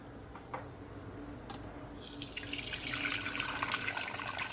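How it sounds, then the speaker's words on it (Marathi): Cooking water from boiled lentils is poured off, starting as faint trickles and swelling into a steady splashing stream into a vessel, close and clear. "आता आपण याचं पाणी काढून घेऊया येळवण्याचं कटाच्या आमटीसाठी."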